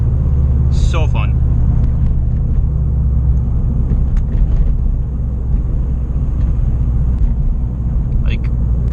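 Subaru BRZ engine droning steadily at close range during street drifting, a loud continuous low rumble under brief voice sounds.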